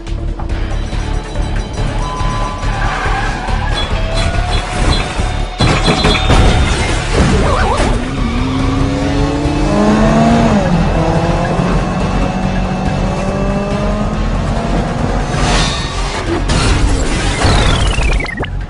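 A car's tires squeal and skid loudly through a long stretch of tight, sweeping screeches, ending in a crash with shattering debris, a close-up action-movie chase effect over a steady engine roar.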